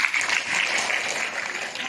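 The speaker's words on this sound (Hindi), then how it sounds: "एक बार और जोरदार तालियां" An audience at a children's rights and Childline awareness event applauds, a steady, moderately loud wash of clapping without speech.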